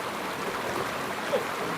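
Water of a wild river running steadily as the channel narrows toward its source, a continuous broadband rush that stays even and fairly close, with no voices present.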